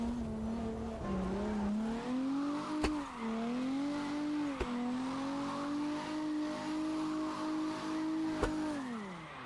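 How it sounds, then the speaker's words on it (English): Drift car engine in CarX Drift, held high near its limit with wavering revs and sharp clicks at shifts, loud and steady over faint tire squeal, no talking. "Now I'm probably going to be hitting the rev limiter like it's nothing."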